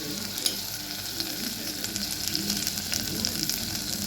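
Chicken curry fries in oil with a dense, steady sizzle close up, broken by small pops and occasional scraping stirs.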